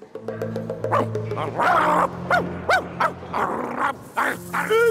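A dog barks and yips repeatedly at close range, several sharp barks in an uneven rhythm with whiny tones between them.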